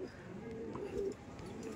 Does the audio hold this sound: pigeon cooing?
yes